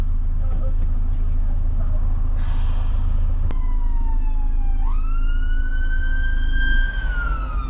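A police siren wails as police cars pass along a motorway hard shoulder, starting low and sweeping upward into a steady tone, over the constant rumble of idling traffic with a voice in the background.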